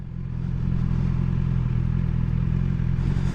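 A BMW XR motorcycle engine drones steadily and close while riding, a continuous low rumble under engine braking with no voices.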